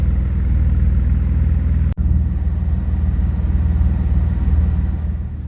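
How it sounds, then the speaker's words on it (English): An Alfa Romeo GT engine idling after a head gasket sealant treatment, a steady low rumbling idle close by with a brief dip partway through, then continuing evenly. "we've started the vehicle"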